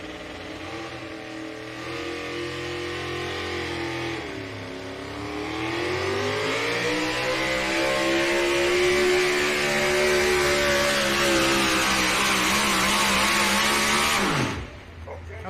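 A pulling truck's engine roars at a truck and tractor pull in Sandwich, Illinois, revving loud and close with pitch climbing steadily under full throttle for many seconds before cutting off sharply near the end.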